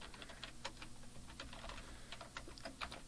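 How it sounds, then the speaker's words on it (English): Typing on a computer keyboard, a run of light, quick key clicks close by with irregular rhythm and a louder key press at the end. "I'll hit the return key on my keyboard a few times"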